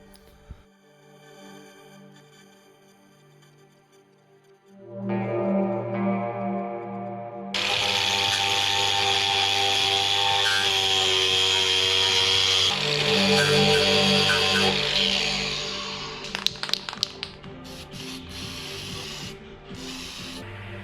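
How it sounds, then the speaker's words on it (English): A wire brush scours rust off a classic car's sill panel, a harsh continuous power-tool whine and rasp that starts partway in and holds loud and steady, then gives way to brief clanks. "so just gave it a quick wire brush"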